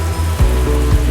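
Water streams steadily over a Siberian husky during a rinse in its bath, a loud, close splashing spray with brief surges as the flow shifts across the coat.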